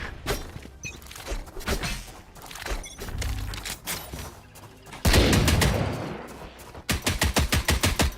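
Rapid gunfire bursts from the Valorant video game, with sharp repeated shots and automatic strings crackling in quick rhythmic volleys, loud and close with no voices over them.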